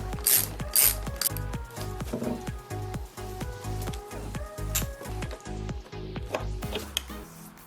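A hand ratchet clicks steadily in rapid, repeated strokes while backing out four 10mm bolts from the front bearing retainer of a Jeep Grand Cherokee ZJ 4x4 transfer case, close up and loud with no talking.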